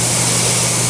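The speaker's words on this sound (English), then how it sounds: "I'm going to spray back here a little bit because this was really bad." Water sprays steadily and hiss-like at close range during exterior car detailing, a continuous loud rush with no breaks.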